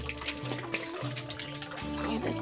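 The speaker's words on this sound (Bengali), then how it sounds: "দেখো বালতিটা ভরে গেছে।" Water pouring from a tap into a bucket, a steady close splashing rush whose tone shifts as the bucket fills, with some voice-like murmur underneath.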